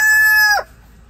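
An Americana rooster crows loudly and close by, a single harmonic call that ends abruptly around halfway, then quiet.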